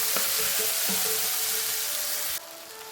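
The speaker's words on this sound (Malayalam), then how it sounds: "ഞാൻ നെയ്യിലേക്ക് നമുക്ക് ഏത്തപ്പഴം കൂടെ ഇട്ട് കൊടുക്കാം. ആ നെയ്ക്കകത്ത് കടന്നൊന്ന് വരട്ടിയെടുക്കണം." Ripe banana pieces fry in ghee in a pan, giving a steady, close sizzle with a few soft stirring knocks and no voices.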